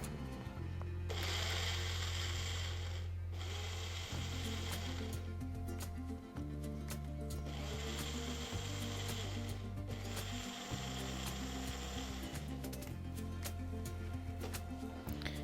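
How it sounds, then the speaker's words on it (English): A mixer grinder jar coarsely grinds a masala paste of garlic and other ingredients, a loud continuous motor whir that stops and restarts in several pulses of a few seconds each. "Put them all into a grinder jar. Grind this into a coarse mixture."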